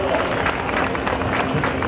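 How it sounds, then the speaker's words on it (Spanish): Crowd applause at an El Salvador Day celebration for the Nassau County controller, dense continuous clapping with murmuring voices mixed in, steady and full throughout. "Venga, fuerte aplauso."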